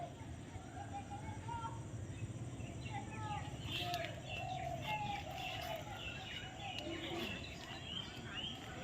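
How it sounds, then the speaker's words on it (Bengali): Faint birdsong and cooing carry across open fields in the late afternoon, with scattered chirps and calls repeating at a distance over a low rustling background and some soft talk. "পাখি ডাকছে কত সুন্দর"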